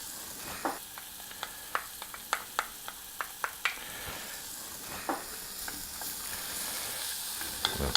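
Green chili added to pork cheeks frying in a pan gives a quiet, steady sizzle, broken by a series of sharp clicks and taps of a utensil against the pan.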